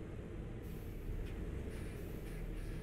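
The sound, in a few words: air brake of Mercedes Travego 16SHD bus in video game Euro Truck Simulator 2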